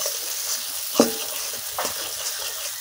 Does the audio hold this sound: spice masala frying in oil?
yes